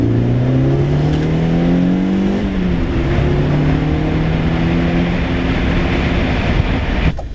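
A turbocharged Audi B7 A4 accelerates hard, the engine droning loudly as its pitch climbs, briefly drops at a gear change, then rises again, heard from inside the car.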